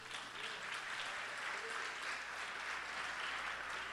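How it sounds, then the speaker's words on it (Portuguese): Church congregation applauding, sustained even clapping from a large crowd at moderate, slightly distant volume, holding steady throughout. "Você pode aplaudir o Senhor Jesus?"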